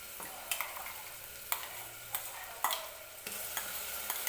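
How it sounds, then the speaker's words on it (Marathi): Ground fresh-coconut masala paste goes into a sizzling pan with roasted tomato for a green chickpea curry and is stirred, making a soft continuous sizzle broken by repeated scraping stirs. "तर आता जे वाटण तयार केलं होतं ते वाटण टाकून घेऊया."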